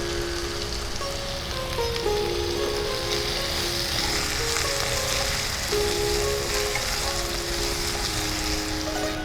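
Chopped ginger sizzles in a frying pan of hot oil while a village-style shol fish stew cooks, a steady close crackle that rises in bursts, with a soft tonal hum under it.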